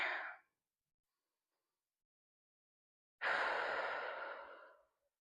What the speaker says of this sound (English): Start with our deep breath in.